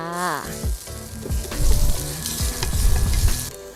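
Garlic frying in a hot pan while sausage fried rice is prepared, a steady sizzle with repeated scraping and stirring clatter, close and fairly loud, with no talking.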